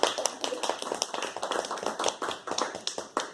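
Audience applause at an academic talk on sericulture deities, a steady patter of many hands clapping at close range, with no talk over it.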